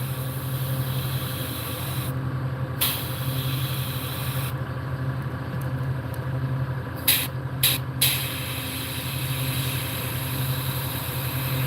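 Short hissing bursts of an airbrush spraying paint onto the fin of a largemouth bass model, a few separate sprays with pauses, over a steady low mechanical hum.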